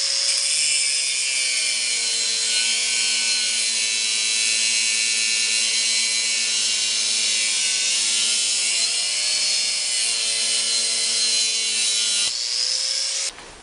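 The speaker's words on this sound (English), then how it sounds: "So I'm gonna grind off the end of this bolt" An angle grinder grinds off the protruding end of a rusted bolt during a leaf spring replacement, giving a loud, steady high-pitched whine with gritty metal rasp that runs unbroken for over twelve seconds before cutting off.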